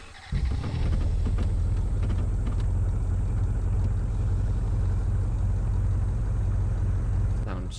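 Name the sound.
car engine in a video game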